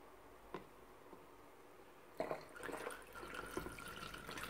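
Ordinary tap water poured into a glass holding hot water with dissolved Marseille soap flakes for homemade dish soap, a steady splashing fill that starts abruptly and keeps running, close and moderately loud.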